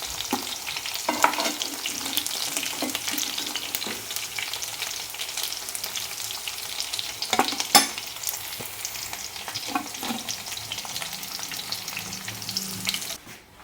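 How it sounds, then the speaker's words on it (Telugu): Chicken pieces fry in a pan with a steady, close sizzle, broken by occasional stirring scrapes and sharper crackles that swell and fade throughout. "చికెన్ మొత్తంగా లైట్గా ఫ్రై చేసేసుకున్నాం."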